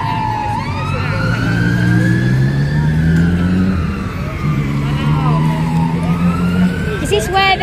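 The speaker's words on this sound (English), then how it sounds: "Fire engine. Coming around, hope everybody's alright." A London fire engine siren wailing close by in the street near the Houses of Parliament, rising and falling tones sweeping over traffic noise, with people talking beneath it.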